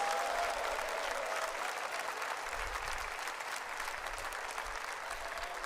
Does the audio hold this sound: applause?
yes